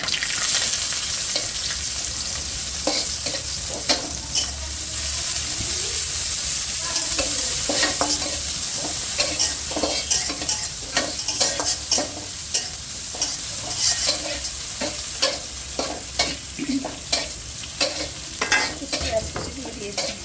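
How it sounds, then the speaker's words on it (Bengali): Chopped onion and bay leaf frying in hot oil for Bengali nihari, with a steady close sizzle broken by frequent sharp scrapes and taps of a spatula stirring through the pan, loud and continuous with no talking. "পেঁয়াজ কুচিটা হালকা একটু বাদামি করবো।"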